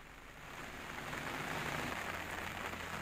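Heavy continuous monsoon rain pours steadily as an even, dense hiss of drops on surfaces, building slightly in the first second and then holding constant and fairly faint.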